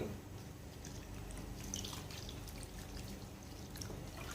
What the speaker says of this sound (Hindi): पानी मैंने इसके अंदर शामिल किया है 1 कप